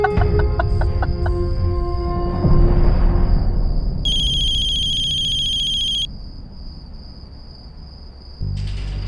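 A phone ringtone rings loudly with a repeating electronic melody and bright tones, continuing for several seconds with no voices.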